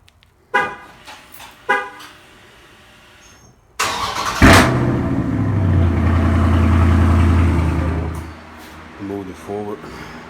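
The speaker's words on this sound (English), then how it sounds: "We're gonna go ahead and get a cold start going." A 2020 Dodge Scat Pack fires up from a cold start: after two short chirps, the starter catches into a loud, close flare of revs that settles into a deep, steady idle rumble, then cuts off before a few quick beeps.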